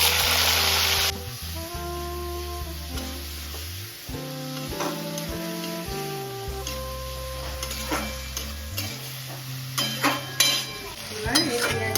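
Onions fry in a pan for mutton korma, sizzling steadily while a utensil stirs and scrapes in irregular bursts, with clinks growing louder toward the end.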